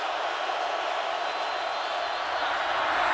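Roaring stadium crowd at a Broncos versus Seahawks NFL game in Seattle, a dense, steady wall of noise near a goal-line play with a faint commentator voice beneath.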